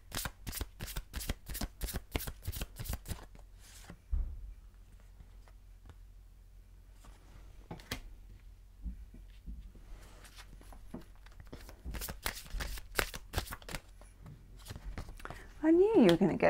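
Oracle cards shuffled by hand in rapid riffling bursts, close and crisp, with a quieter stretch of sparse flicks in the middle before the shuffling picks up again; a voice speaks briefly near the end.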